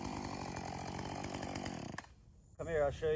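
A chainsaw runs loud and steady during a novice lesson on felling snags, then cuts out about two seconds in; after a brief lull a voice starts talking.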